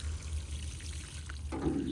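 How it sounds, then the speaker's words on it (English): Water pours onto flower pots in a front yard garden, a soft steady splashing and trickling that grows slightly louder near the end. "I need to water some flower pots here in my front yard."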